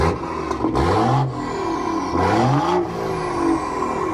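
A Ford Fiesta ST engine revs hard several times, rising and falling in pitch between blips, loud and close with a steady idle underneath.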